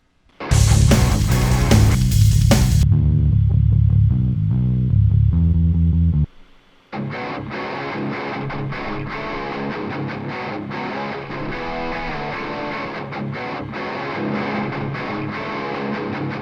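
Heavily distorted electric metal lead guitar plays in a loud rock mix, first with a dense burst, a brief pause, then a sustained driving section.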